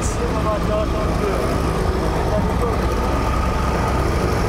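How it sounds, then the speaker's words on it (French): Small 50cc moped engines starting, idling and revving at close range at a moto club ride in Chalindrey, a steady loud drone with a few higher whines rising from it. "Quelques-uns commencent à démarrer leur mobilette."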